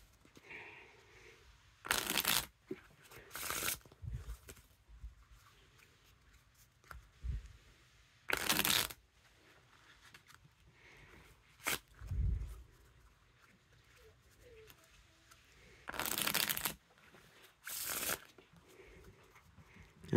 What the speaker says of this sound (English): Now to test the Riffle Shuffle or Bridge Shuffle.